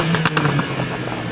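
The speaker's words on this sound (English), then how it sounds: "Ben, rev up your car." A BMW car engine, a tuned 430d or an M4, revs briefly in a couple of quick throttle blips, then falls back to a rumbling idle, close and moderately loud.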